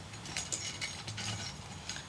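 Threaded metal parts of a candle stick holder are twisted together, giving small clicking, ratcheting scrapes in a short, close, irregular sequence.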